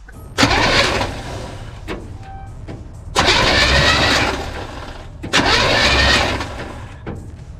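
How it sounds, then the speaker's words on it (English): A freshly installed 350 V8 in a 1962 classic truck cranks over on the starter in three separate bursts of about two seconds each, whirring and churning without catching, with short pauses between attempts. "you saw we were able to turn over the engine"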